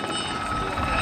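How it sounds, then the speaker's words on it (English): Steady, loud rotor and engine roar of a Gazelle helicopter in a flying display at an airshow, continuous and close, with no voices. "this next display is the agility of the Gazelle helicopter"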